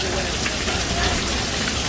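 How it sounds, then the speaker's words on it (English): Water pours down like rain at an outdoor dining area, a dense, steady splashing hiss close by that fills the whole moment. "water coming down."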